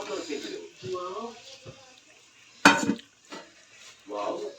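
A utensil stirs chow mein with fried vegetables in a pan, giving soft scraping and one loud metallic clank, with a voice talking intermittently over the kitchen sounds.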